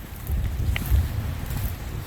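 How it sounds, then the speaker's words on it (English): Strong wind gusts outdoors at a roadside car repair spot, buffeting the microphone in a steady low rumble with no talk. "it's very windy out here"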